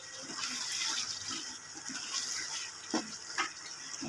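Water pours into a pan of chicken curry with a bright, splashing rush and hiss, moderately close, with a few louder splashes toward the end.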